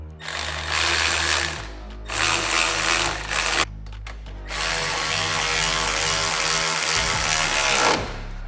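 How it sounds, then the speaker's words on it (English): A ratchet wrench clicks in rapid, continuous runs while tightening the factory exhaust brackets under the muffler of a Segway Villain UTV fitted with a Treal Performance Vader exhaust. Two dense bursts are followed by a short pause, then a longer steady stretch, loud and close. "Next step is we're gonna tighten up all the factory brackets right here, hanging off the lower side of the muffler."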